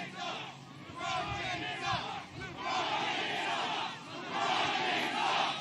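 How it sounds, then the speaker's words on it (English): Large crowd at a Donald Trump rally in Scranton, Pennsylvania, cheering and chanting in loud surging waves with shouted voices throughout. "What a crowd."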